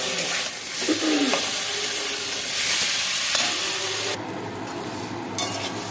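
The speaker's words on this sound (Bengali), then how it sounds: "তো আমি এখন পেঁপে আর আলুটা যে ভেজে রেখেছিলাম ওটা দিয়ে দিচ্ছি আমি আরেকটু কষাবো" Tangra fish cooking with fried papaya and potato, stirred in a pan with a steady sizzle and scraping stir sounds throughout, close and moderately loud, with no talking.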